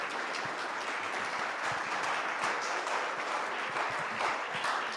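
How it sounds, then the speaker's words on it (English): An audience applauds after a talk, a dense, even wash of many hands clapping that holds steady from start to finish at moderate loudness. "One more round of applause for Peter."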